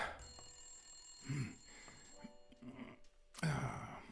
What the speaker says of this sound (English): Oh, now it starts ringing?